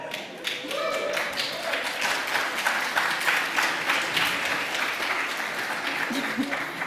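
Workshop audience at ETHGlobal Lisbon cheering and applauding in a room: dense, steady clapping with a few whoops and whistles, sustained loudly for about seven seconds, with crowd voices mixed in.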